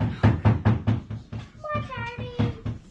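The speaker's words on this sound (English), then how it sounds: "he knocked at the door." Knocking on a door at a children's play sounds as a steady run of loud, close raps, with a voice speaking partway through.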